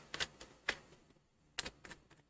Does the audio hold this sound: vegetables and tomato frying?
no